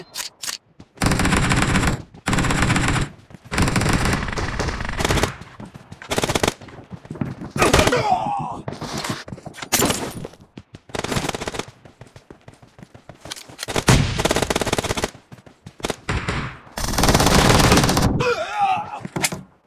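Gunfire in a PUBG team deathmatch, with loud automatic bursts and single shots arriving in separate rapid volleys split by short silences, close and sharp throughout.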